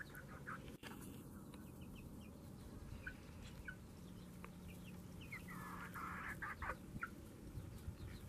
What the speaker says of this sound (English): Because I have chickens hatching babies.